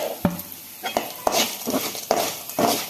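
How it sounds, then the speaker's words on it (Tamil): Chicken chops ingredients fry in a pan with a steady sizzle, broken by several knocks and scrapes of a stirring spoon against the metal. "சேர்த்து நல்லா ஃப்ரை பண்ணி விட்டுக்கலாம்."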